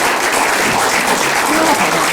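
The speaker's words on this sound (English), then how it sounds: "we'll now just give her a little round of applause to warm her up" An audience claps steadily for about two seconds, a dense, close round of applause with no talking over it.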